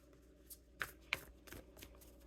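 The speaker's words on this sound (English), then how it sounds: "We'll just shuffle them up a little bit." Oracle deck cards shuffled by hand for a tarot-style reading, giving soft riffling and a couple of sharp, close flicks over a quiet background.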